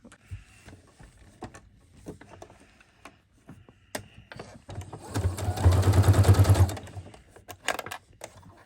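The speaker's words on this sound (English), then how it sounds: "So now we're going to put it on the sewing machine." A home sewing machine stitches fabric in a single burst of rapid, even mechanical ticking that runs for a couple of seconds, framed before and after by quieter handling clicks and rustles.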